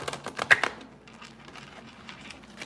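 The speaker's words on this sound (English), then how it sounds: "that shuffle was something else" A deck of tarot cards gets a quick riffle shuffle, a burst of rapid papery flutters and taps up front that thins into softer, scattered card rustling, close to the listener with no talking.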